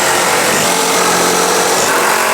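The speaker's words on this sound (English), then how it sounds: "It's a real nice table saw." A DeWalt 8.5 inch table saw runs loud and close, its blade whining steadily through a cut in a stud with a dense, even roar that holds for a couple of seconds.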